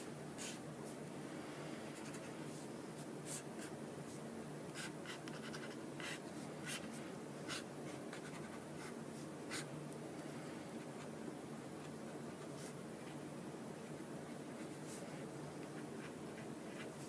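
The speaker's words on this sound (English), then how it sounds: "I'm going to just quickly sketch out my circuit again here" Pen sketching a circuit diagram on paper, a steady run of short scratchy strokes over a constant hiss of background noise.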